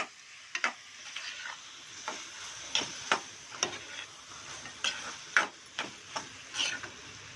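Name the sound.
prawns being stirred and fried in masala in a pan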